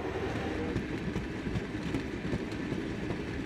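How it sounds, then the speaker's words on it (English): A cartoon freight train chugs along rails, with a busy, rhythmic rumble and clatter of wheels that runs steadily and close throughout. "We are the chugga chugga sturdy freight train."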